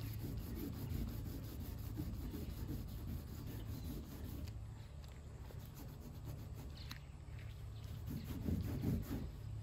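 A small scrub brush works denatured alcohol over old decal residue on a Chevy Express van, making a faint, continuous rubbing and scrubbing sound with steady back-and-forth strokes.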